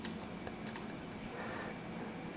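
Quick, light keystrokes clatter on a computer keyboard during coding work, a steady stream of soft clicks with a few sharper taps, recorded close and fairly quiet with no talking.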